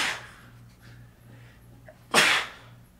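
One sharp, loud sneeze bursts out close by near the end, after a quiet stretch with a faint soft breath at the start.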